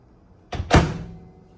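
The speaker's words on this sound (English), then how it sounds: "Door does squeak a little bit." A GE JVM3162RJ3SS over-the-range microwave oven door, made in 2018 and slightly squeaky, opens with a brief creak that ends in a soft, close thunk, then fades.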